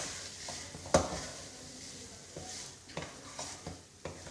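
Mashed potatoes and carrot pieces being stirred together in a pan, with a steady low sizzle under a sharp spoon knock and several soft, rhythmic scrapes.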